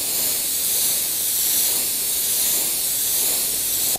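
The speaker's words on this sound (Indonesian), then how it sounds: "Selanjutnya teman-teman juga bisa menyemprotkan yang dari luar ke dalam seperti itu" Compressed air blasting through a car's engine air filter from the outside in, a loud continuous hiss that holds steady for about four seconds before cutting off abruptly.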